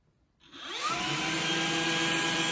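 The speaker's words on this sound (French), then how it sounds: "on a un bouton pour démarrer et stopper l'aspiration" A Hoover HF9 stick vacuum cleaner switching on, its motor whine rising over about half a second and then holding as a steady, close, loud drone.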